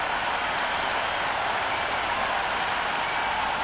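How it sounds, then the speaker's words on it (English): A stadium crowd in a cricket video game, India versus New Zealand T20, roars in a steady, dense wash of cheering and applause, loud and continuous without a break. "already the crowd making a hell of a racket"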